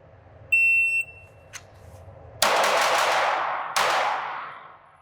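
Shot-timer beep followed by two loud, close gunshot bursts from a Ruger RXM pistol at an indoor range, each ringing out with a decaying tail, about a second apart.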